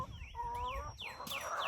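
Chickens clucking near a backyard feeder, with several quick overlapping clucks and chirpy calls close by in a short burst.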